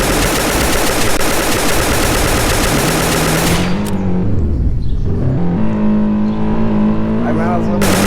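Rapid gunfire from a shooting video game set in a gun shop bursts loud and continuous, stops abruptly, then gives way to quieter game sounds.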